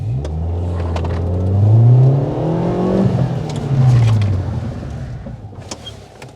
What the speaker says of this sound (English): So we're going to skid all the way up to the mark. I'll be using the foot brake to slow it down with the precision.